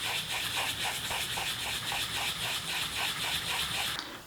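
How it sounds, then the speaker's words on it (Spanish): A shoeshine brush rubs back and forth across a Ferragamo leather shoe in fast, steady, close strokes, loud and continuous with no talking. "lo que sigue entonces es frotar con tu cepillo de bolero"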